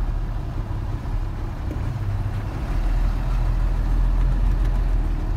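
A Mercedes diesel truck pulls away and drives on, its low engine rumble steady and close throughout, building slightly louder toward the end with no voices.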